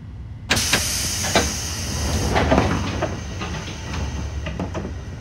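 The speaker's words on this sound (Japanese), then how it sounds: "4番線ドアが閉まります。" Train doors on a Keiyo Line 205 series commuter train slide shut in the BVE5 train simulator game, a sharp start, a few clunks and a steady mechanical hum, no talk.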